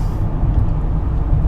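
A truck tailgates closely behind a moving car, heard from inside the car as a steady, loud low road rumble and engine drone.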